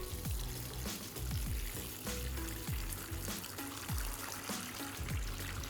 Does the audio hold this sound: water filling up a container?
yes